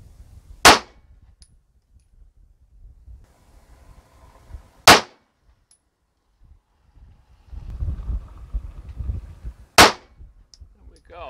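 Three sharp 9mm pistol shots loaded with Barnes TAC-XP and Federal HST bullets, spaced about four to five seconds apart and loud against quiet outdoor background with faint wind and shuffling between them.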